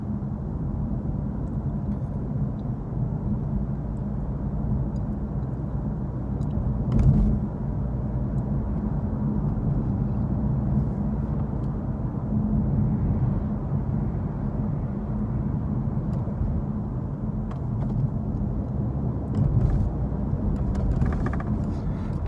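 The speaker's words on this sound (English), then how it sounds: "Car's going really slow." Steady road noise and engine rumble from inside a car driving slowly on a road, a continuous low drone with one brief bump partway through and no talking.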